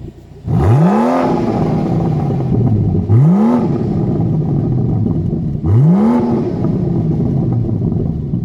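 A 2017 BMW M760i V12 engine revs three times, each rising exhaust roar sharp and deep before falling back to a rumbling idle, loud and close.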